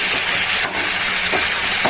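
Nigella seeds frying in hot oil in a pan, producing a loud, close, steady bright hiss and sizzle with a brief dip partway through.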